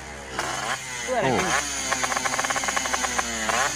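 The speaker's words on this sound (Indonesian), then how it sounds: "Yang ini udah mulai nggak boleh" A loud racing motorcycle exhaust, too noisy to be street legal, revs in sharp repeated bursts that build into rapid throttle blips, close and harsh, with a brief exclamation from a voice.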